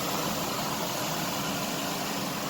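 A rebuilt 2005 Mazda Tribute engine idles smoothly and steadily, a continuous low hum with no talking over it.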